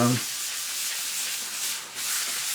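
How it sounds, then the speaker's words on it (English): Loose powder is rubbed by hand into an egg tempera painting, giving a close, continuous soft scratchy rubbing with slight swells in strength. "loose powder coming off, so we'll just rub it in"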